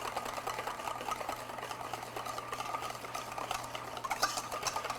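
Whisk beating ricotta cheese in a bowl for chocolate muffins, a steady close scraping and rattling churn that runs continuously without pause.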